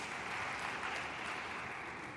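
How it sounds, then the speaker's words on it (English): Applause from a symposium audience greeting a speaker, a steady broadband patter of many hands clapping at moderate distance, sustained evenly for the full stretch without speech. "A big round of applause"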